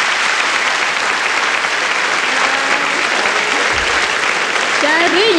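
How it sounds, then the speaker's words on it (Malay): Studio audience at a 1999 Singapore Hari Raya television special breaks into sustained, even applause that fills the whole stretch, steady and fairly loud throughout. "Berikan tepukan."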